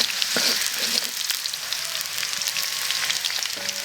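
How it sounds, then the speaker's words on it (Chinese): Ginger and garlic crackle and sizzle steadily in a hot wok as they are stir-fried for spicy pickled-chili lamb, with a few faint clinks over the continuous close frying hiss. "这里给它先炒一下，给它爆香"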